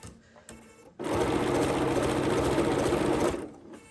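A sewing machine stitching fabric with a zigzag stitch, running in one steady, fast, close whirring burst of about two and a half seconds after some brief handling sounds.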